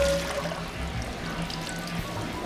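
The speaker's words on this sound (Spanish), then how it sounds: "Yo escurro el agua totalmente." Water drains off soaked, softened fish gelatin in a kitchen while panna cotta is being made, a steady near pouring trickle with a few faint drips, and no voices.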